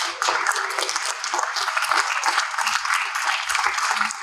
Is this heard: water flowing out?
no